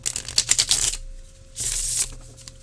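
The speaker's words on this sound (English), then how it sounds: "It shuffles beautifully, but it is just a bit stiff." A new Edmund Dulac tarot deck, still a little stiff, is shuffled up close in two brisk bursts of riffling, papery card flutter separated by a short quiet pause.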